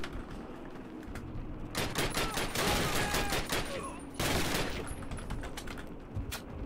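Rapid automatic gunfire from a Call of Duty match, dense overlapping bursts that swell to a sustained roar, cut briefly, then resume with scattered shots, loud and close throughout.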